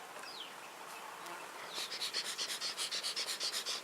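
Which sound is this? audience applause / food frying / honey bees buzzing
honey bees buzzing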